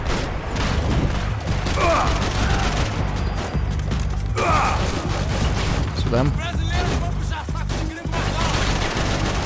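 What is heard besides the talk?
gunfire from the video game Max Payne 3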